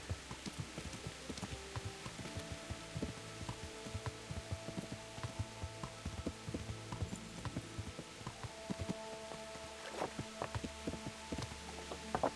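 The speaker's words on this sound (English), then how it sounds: "Maybe after it stops raining." Rain falls softly in a video game following Henry of Skalitz, with irregular clopping hoof- or footsteps mixed in. The whole scene stays faint and continuous, with no talking.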